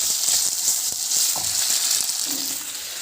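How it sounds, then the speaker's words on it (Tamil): Chopped guava leaves sauté in hot oil for a chutney, giving a steady close sizzle throughout with a few soft stirring scrapes and clicks, and no talking. "நம்ம வந்து இந்த கொய்யா இலையை வந்து நறுக்கி வந்து வதக்கிக்கலாம்."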